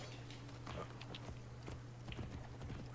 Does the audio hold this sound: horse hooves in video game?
yes